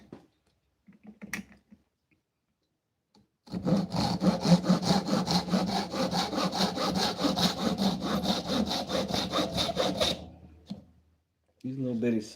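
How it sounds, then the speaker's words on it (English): A small hand saw cuts through wood for a box, a rapid run of rhythmic rasping strokes lasting about six seconds, framed by brief bumps and a voice speaking afterward. "These little bitty saws are so handy."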